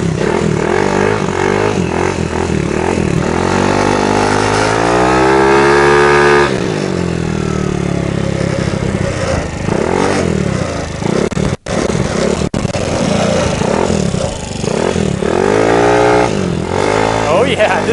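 A custom-built trike engine runs steadily while riding on small tires, loud and close, with rising and falling revs and a brief cut near the middle; a rattle sits in the mix and someone talks over it.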